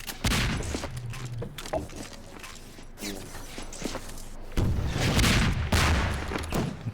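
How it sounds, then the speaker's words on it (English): SMG grenades and gunfire in a Half-Life 2 Deathmatch 1v1 match: bursts of shots and heavy grenade booms, close and loud, with footsteps between the blasts. "Afer happy just to spam all 3 SMG nades trying to get a kill."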